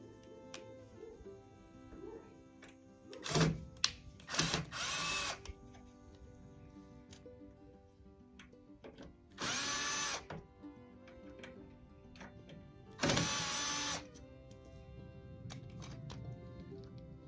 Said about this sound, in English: There's 3 screws holding the pump in position. We're going to undo those